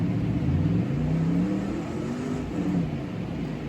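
A modified drift car's engine revs steadily at close range, a rumbling mid-pitched drone with rising and falling throttle sweeps, loud and continuous with no talking.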